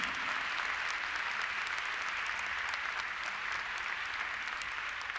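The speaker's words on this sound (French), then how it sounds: "mesdames et messieurs, un tonnerre d'applaudissements pour le cavalier irlandais Richard Hawley et Mancini." Steady, dense audience applause at an international show jumping event in Bordeaux, honoring the winning Irish rider, sustained evenly throughout with no voices over it.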